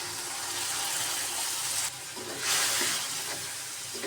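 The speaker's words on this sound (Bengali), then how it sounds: "তার সাথে একটু অল্প পরিমাণে জল দিয়ে দিব।" Water poured into a pan of dried fish cooked with plenty of chilli powder makes a broad, loud rushing hiss that briefly dips and then surges again as it hits the hot spices. It sounds close and steady, with no talking.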